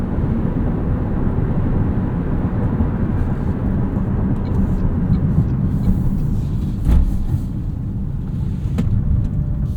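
Steady low engine drone from inside a moving, warmed-up 2024 Toyota Prius Prime, a continuous rumble with road noise and no speech.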